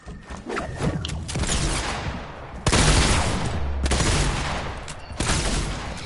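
Gunfire in Fortnite, loud close bursts of rapid shots in several clusters with short breaks between them, sharp cracks layered over a rumbling spray of fire.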